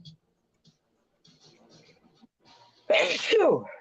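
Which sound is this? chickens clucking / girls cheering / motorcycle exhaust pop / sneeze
sneeze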